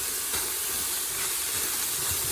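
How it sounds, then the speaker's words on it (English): Vegetables sautéing at medium-low heat in a pan for soup give a steady, close hiss with faint crackle throughout, no talking. "I'm just going to let it saute for a little bit."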